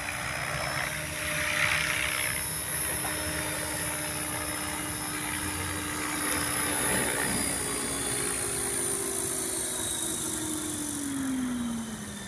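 A Trex 500 RC helicopter fitted with an MD500 scale body flies over an open field, giving a steady whining rotor and motor drone with a sustained tonal hum that rises and falls slightly as it moves around.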